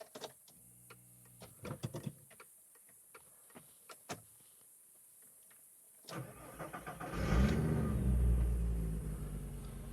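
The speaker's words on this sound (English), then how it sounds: "let's turn on the car." A car engine cranks and catches after a stretch of quiet clicks and small knocks, then settles into a loud, steady idle with a deep low rumble that keeps running to the end.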